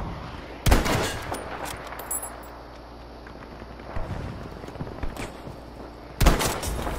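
Gunfire in the video game Battlefield V: two loud, sharp shots near the start and end, with lighter scattered shots in between and a steady low background.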